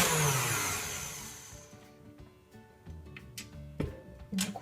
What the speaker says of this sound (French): Je rabaisse le fouet et je recommence à battre.